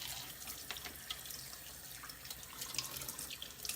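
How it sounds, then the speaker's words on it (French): The screw of a Silvercrest juicer is rinsed under a running kitchen tap, giving a steady, close stream of splashing water with small spatters as the part is turned, and no voices. "on a la vis qui se lave facilement en passant sous l'eau"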